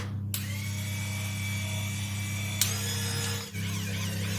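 A facial cleansing brush running close up, a steady electric motor hum with a high whine, changing pitch with a click as its setting is adjusted, then a short dip.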